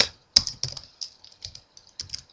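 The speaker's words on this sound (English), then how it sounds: "typing" Keystrokes clatter on a computer keyboard while a C++ program is entered, a close, crisp sequence of irregular taps with short pauses, alone without talk.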